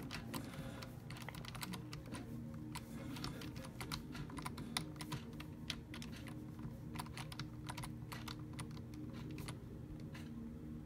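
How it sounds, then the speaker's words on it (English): Computer keyboard keys in the Portal video game are struck repeatedly in a steady, rapid clatter of sharp clicks, close and fairly loud over a low room hum, with no talking. "Can I smash the keys of that keyboard?"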